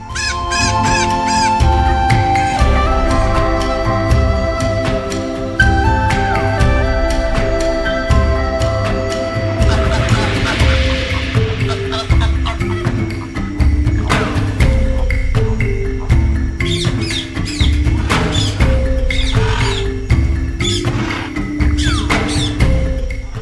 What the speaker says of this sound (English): This is the macaw, the radiant soul of the Amazon.